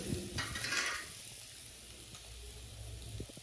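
Meat sizzles softly in a pan for the Dashain festival in Nepal. A brief burst of hissing comes first, then a quieter steady frying with faint stirring clatter.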